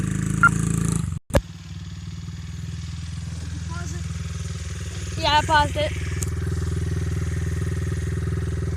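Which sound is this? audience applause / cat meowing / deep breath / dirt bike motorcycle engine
dirt bike motorcycle engine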